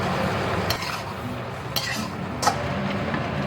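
Shrimp, soaked tofu skin and shrimp stock being stirred in a pan, with soft scraping and a few sharp clinks of a utensil against the pan over a steady low sizzle.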